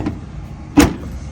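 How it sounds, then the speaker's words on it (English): A Ford F150 pickup hood is shut with one sharp, loud slam, preceded by a softer knock and followed by quiet. "Okay, now the hood's closed."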